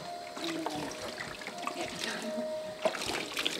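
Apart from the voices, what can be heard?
water being poured into a container to fill it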